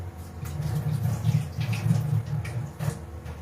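Hands washed under running water at a kitchen tap, a steady close rush with small splashing variations and no talking.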